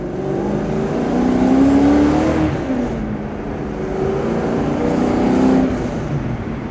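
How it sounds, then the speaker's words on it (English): A 1970 AMC AMX SS race car engine revs up and down in two long, rumbling swells, loud and close, its pitch rising and falling with the throttle. "You can hear the sound that engine makes."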